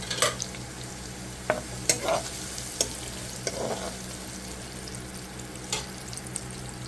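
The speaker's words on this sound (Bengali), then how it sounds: "রসুনের পেস্টটা দিয়ে অল্প একটু কষিয়ে নেব" A spoonful of garlic paste fries in a pan for an egg dish, giving a soft, low sizzle with scattered clinks and scrapes of a stirring spoon.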